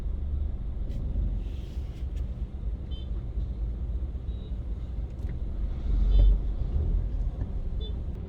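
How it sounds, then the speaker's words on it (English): Slow back-to-back road traffic on a drive from Half Way Tree toward Constant Spring makes a steady low rumble of engines and tyres, with a brief swell of a passing vehicle near the end and faint high tones. "we have a lot of traffic building up, going up to Manor Park section. So some back-to-back traffic"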